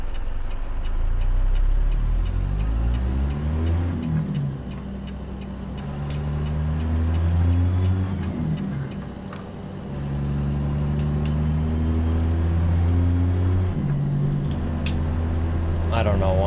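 Truck engine in American Truck Simulator revving and dropping through repeated split gear changes under a light load, rising tones between shifts, with a voice talking over it.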